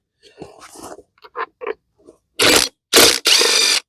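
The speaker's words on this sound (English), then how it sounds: "Let's just put a pair of channel locks on that." Stuck stud on a 21-inch self-propelled MTD Pro mower with a Honda engine, worked loose with channel locks: a few small scattered clicks, then three loud close grinding crunches in quick succession.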